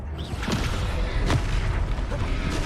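Descendo spell landing in a Harry Potter video game, a booming, rumbling impact that swells and sustains with a brief sharp burst in the middle, dense and loud throughout.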